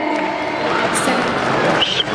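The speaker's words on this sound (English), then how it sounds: "Give them a big round of applause" A crowd at a preschool event cheers and applauds after a prize name is called, a steady wash of clapping and voices with a few high shouts, close and fairly loud.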